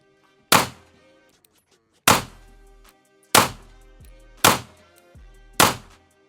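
A GOWUTAR GP-7 gun fires five sharp shots, close and loud, spaced about one to one and a half seconds apart, each with a short decaying tail, and no voices.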